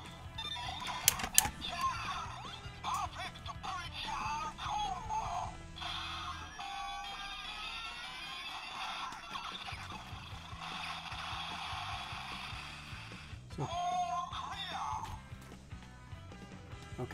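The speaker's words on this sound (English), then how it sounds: "So let me just turn clockwise." A DX Gashat Gear Dual Another Kamen Rider Ex-Aid toy has its dial turned and gives off clicking ratchet sounds, then loud electronic voice announcements and jingles, with bursts of synthesized sound effects throughout.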